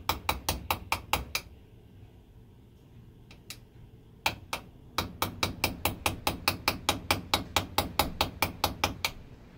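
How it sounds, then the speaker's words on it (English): A small hammer taps a metal pin on Kawasaki KZ400 carburetors in quick, even strikes, a burst of taps, a pause, then a long steady run of sharp clicks. "I'm going to use a little hammer. A little wee little tap,"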